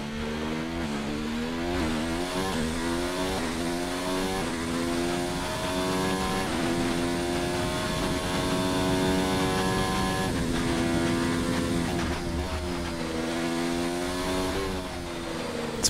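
A Formula 1 car in F1 2019 at Suzuka, held in sixth gear, its engine droning loud and strained with steady harmonic whine throughout, gear pitch wavering slightly, no talk.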